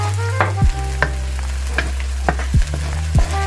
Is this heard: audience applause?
no